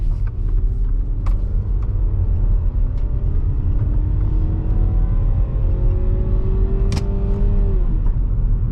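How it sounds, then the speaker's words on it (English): A 2009 Volkswagen Passat Wagon's turbocharged engine revs in first gear, its pitch climbing in several rising sweeps before dropping near the end, loud and close over a steady low rumble, with no talking. "And I can let the engine sing a bit, let you hear that,"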